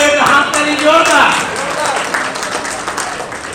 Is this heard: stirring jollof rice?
no